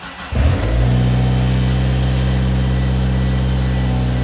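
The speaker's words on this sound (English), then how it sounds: "Here we go, car started in neutral." A car engine cranks and catches, then settles into a steady, loud idle in neutral with a deep, even hum and rumble, recorded close with no voices.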